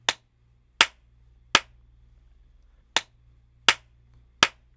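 Recorded hand claps with the D-Reverb plugin bypassed: six crisp, sharp claps in two groups of three, each with a short room tail over a faint low hum.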